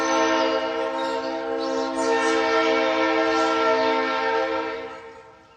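A passing train sounds a long, loud, steady horn blast that holds for about five seconds and then fades as the train moves away, with rumbling underneath.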